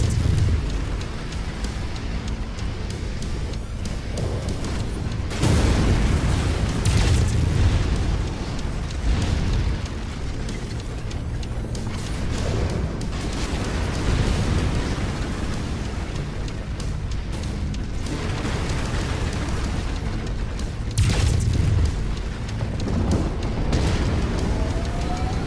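A base being destroyed in MechWarrior 5: Mercenaries, with repeated deep booming explosions rolling over a constant low rumble, loud and heavy, recurring every few seconds.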